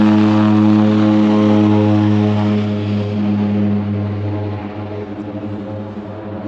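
Propeller airplane engine at a primitive airport in the Everest region, a loud steady drone with strong low harmonics that eases slightly toward the end, with a brief voice speaking over it.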